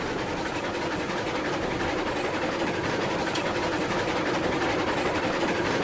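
A Heisler steam locomotive hauls a long, heavy train in a railroad simulation game, a continuous rumbling, clanking rail noise with engine drone, steady and unbroken throughout.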